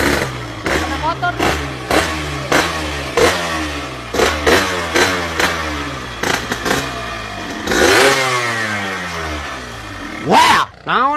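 A Yamaha RX motorcycle engine revs repeatedly in sharp bursts, close and loud, each throttle blip rising and falling, with a longer rev near the end.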